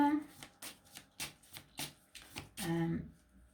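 Tarot cards being handled and shuffled for drawing a card, a quick series of crisp papery flicks in a loose rhythm ending in a longer riffling burst, close and fairly quiet, with a voice faintly present.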